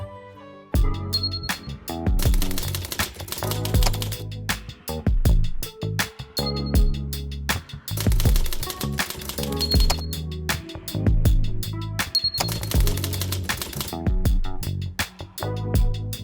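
A Korean five-set typewriter clatters steadily, with dense irregular bursts of sharp metallic key strikes and occasional bell-like pings, close and loud with no talking.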